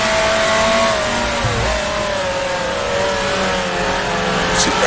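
A 1966 Formula 2 race car in Grand Prix Legends revs hard at Rouen, holding a loud, near, steady engine whine. A brief dip marks an upshift into fifth gear before the pitch climbs again.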